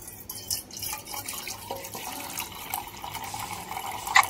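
Finger millet (ragi) grains are washed in water for a homemade ragi malt, with soft, continuous sloshing and trickling close by and a few small splashes near the end.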